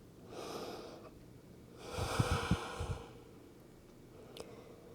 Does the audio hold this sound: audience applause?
no